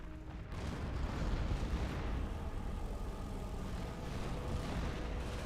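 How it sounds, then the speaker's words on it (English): Bombing run in a WWII strategy video game, a dense, continuous low rumble of explosions rolling on for several seconds, heavy and booming with no distinct single blasts. "Calling in another bombing run."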